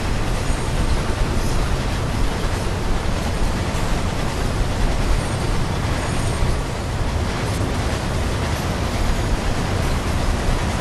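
Steady, loud train noise from a train video game, a continuous broadband rumble of a train running on rails that holds evenly for the whole stretch with no voices over it.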